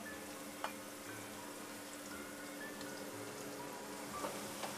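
Onion cooking in a pan with fish sauce gives a faint, steady sizzle and bubbling with a few soft clicks of utensils, quiet and even throughout, with no voices.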